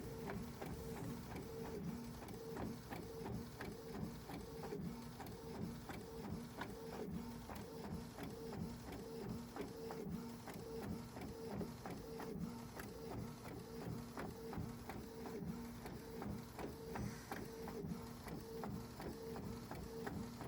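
A printer runs steadily while printing on planner filler paper, a loud close mechanical whirr with rapid regular clicking that continues throughout without talk.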